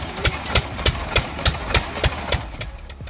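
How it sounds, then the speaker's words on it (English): A 1930 Ottawa drag saw driven by an early gas-powered St. Croix Valley engine at a threshing show, thumping in a slow, regular chug of about three beats per second, loud and close, with crisp cracks on each stroke. "This 1930 Ottawa drag saw is a fascinating piece of history, running on a gas-powered St. Croix Valley early-day engine"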